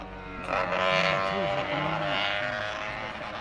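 A small-displacement Honda racing engine with gear-driven cams runs at Twin Ring Motegi, its high-pitched exhaust wailing steadily and echoing off the surrounding hills, with a faint voice partly over it.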